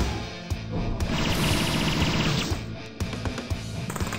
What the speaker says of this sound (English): Okay, let's bomb them.